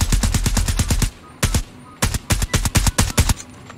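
EM2 rifle fire in a video game: a rapid burst of about a dozen sharp, loud shots, a brief pause, a couple more shots, then several quick clusters of crisp, close gunfire.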